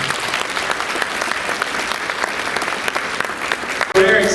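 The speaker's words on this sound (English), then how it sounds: "Give them a big round of applause." Audience applause at a school National Junior Honor Society induction ceremony, steady dense clapping from a crowd for about four seconds before cutting off abruptly.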